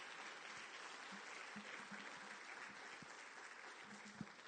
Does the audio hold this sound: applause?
yes